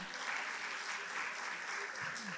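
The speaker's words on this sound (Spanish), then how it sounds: "Recibámosles con un fuerte aplauso" Sustained audience applause at a nursing education academic conference, greeting a ministry panelist; dense, steady clapping throughout with a faint voice near the end.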